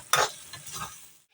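Minced beef keema frying in a pan, a short burst of stirring with a spatula scraping through the meat against a soft sizzle, two quick strokes then quiet.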